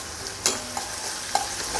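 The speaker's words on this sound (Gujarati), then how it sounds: "અહીંયા કડાઈમાં ઉમેરેલી બધી જ સામગ્રી સરસ સંતળાઈ ગઈ છે" Spices sauté in hot oil in a kadai: asafoetida, curry leaves, cloves and a piece of cinnamon. A quiet, steady sizzle runs under a few sharp clicks of a spoon stirring against the pan.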